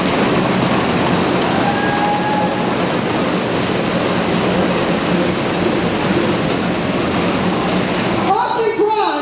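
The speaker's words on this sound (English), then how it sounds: "can we get a little drum roll in the crowd?" During a Mr RHS 2019 school pageant, a crowd makes a drum roll before the winner is announced. It is a dense, continuous rumble of stomping and patting that holds loud and even for about eight seconds, then cuts off abruptly.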